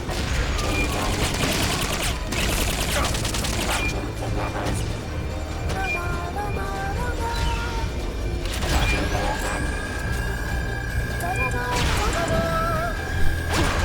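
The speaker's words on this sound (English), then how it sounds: "Wasn't expecting a second shot." Gunfire in the video game Metal Gear Solid Peace Walker: sharp shots and crashing impacts burst out over a busy layer of game music and effects, with a second shot arriving unexpectedly late.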